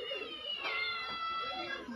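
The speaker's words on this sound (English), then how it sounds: "This very big cat here." A very large cat meows in a drawn-out, wavering call up close, with a person talking over it.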